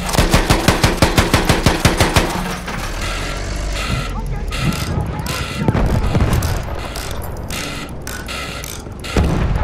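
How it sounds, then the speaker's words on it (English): Rapid automatic machine gun fire in Battlefield 1 Conquest, a fast steady burst of loud rattling shots for the first couple of seconds, then fading into a dense mix of distant gunfire, engine rumble and battlefield noise under occasional talk. "I was shooting at Ed, my guy"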